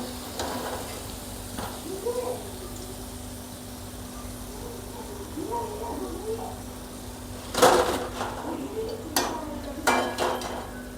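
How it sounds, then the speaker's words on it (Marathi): Palak bhaji, spinach fritters, frying in hot oil with a steady low sizzle, light clinks and stirring scrapes from a utensil and a sharp clatter of metal partway through, heard close; someone speaks briefly. "आता मी असेच बाकीचे पण भजे असेच तळून घेते"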